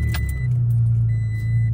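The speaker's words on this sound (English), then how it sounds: "I'm going to fire up the truck so you can see it all lit up" A Toyota Tacoma truck engine turns over and settles into a steady low idle, loud and close, with a brief jingle of keys at the start and no talking.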